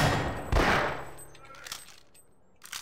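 Gunfire in the Half-Life video game, a sharp loud blast followed by a fading tail and a few scattered smaller shots and clicks, close and dry, with no talk.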